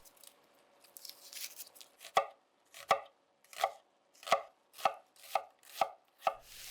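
Knife chopping onions finely on a board, starting with soft scraping and then a run of about nine crisp, evenly spaced chops, close and clear.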